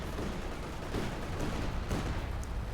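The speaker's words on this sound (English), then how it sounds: "bazookas firing away there" Bazooka teams fire in Company of Heroes 2 amid a dense, continuous roar of battle, with rapid overlapping blasts and shots rumbling together at moderate loudness and no voices over it.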